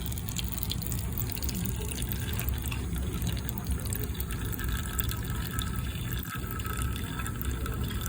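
Water pours and splashes steadily from a small 3D-printed DC motor micro pump filling a container, a constant gushing hiss with no breaks.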